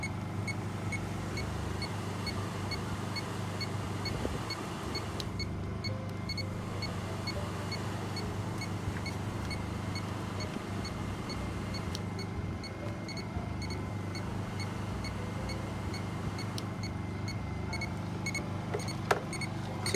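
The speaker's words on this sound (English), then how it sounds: "I'm just verifying that the motor works." The heater blower motor from a VW Westfalia, lubricated with WD-40, runs at a steady, even hum with a faint high whine, unbroken for the whole stretch.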